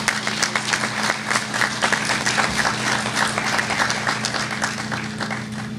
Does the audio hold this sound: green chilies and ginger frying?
no